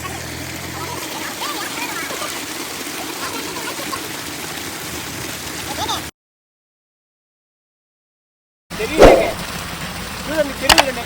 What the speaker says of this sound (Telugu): సో గాయ్స్, ఇంకా చికెన్ మొత్తం అయితే కడగడం అయితే స్టార్ట్ చేసాం.